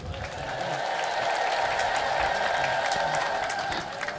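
A church congregation ululates and claps together in praise of the Trinity during a sermon, a loud, sustained wash of trilling voices and applause that holds steady throughout, with no speech.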